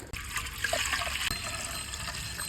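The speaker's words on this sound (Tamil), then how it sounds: "தண்ணி ஊற்றிக்கலாம்." Water pours steadily into a cooking pan with a continuous splashing rush, close and fairly loud for a few seconds.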